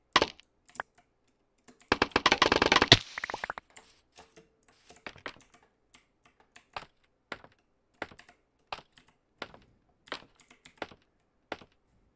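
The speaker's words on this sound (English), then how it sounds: "I'm clicking faster than it's showing" Rapid mouse clicking during a scaffolding glitch attempt in a block-building game: a dense burst of fast clicks early on, then a steady series of sharp, separate clicks at regular intervals, close and alone without talk.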